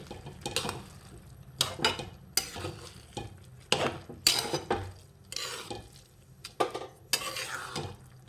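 Carrot halwa cooked with full-cream milk is stirred in a pan: a string of irregular scraping strokes, fairly close and moderately loud, with short pauses between them.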